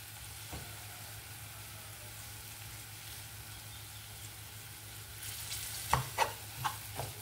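Ivy gourd curry frying in a pan with cumin chili powder gives a soft, steady sizzle throughout, with a few sharp clinks and scrapes of stirring near the end.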